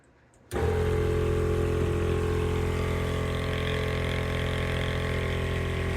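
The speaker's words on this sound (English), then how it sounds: "the compressor should start to run" A 12-volt onboard air compressor in an off-road truck kicks on abruptly after a moment of quiet, then runs at a steady, loud, close motor hum and drone for the rest of the clip.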